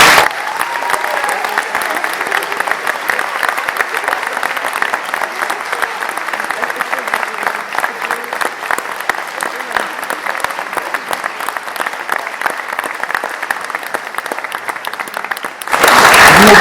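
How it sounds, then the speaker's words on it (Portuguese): A theatre audience gives a long, sustained round of applause, a full and even roar of clapping hands that holds steady before breaking off abruptly near the end. "Eu gostava de ter uma salva de palmas para ele"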